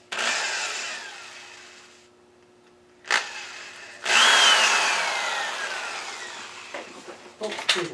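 A power drill whirs in short bursts drilling pilot holes, pausing between holes, with a rising whine during the longest run; close and moderately loud.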